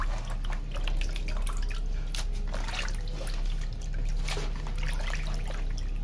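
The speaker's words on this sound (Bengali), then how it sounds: "মাংসটা এই যে ছোট ছোট করে পিস করে নিয়ে এখন ধুয়ে নিচ্ছি" Small pieces of meat are washed in water, with continuous splashing, dripping and trickling close by for the whole stretch.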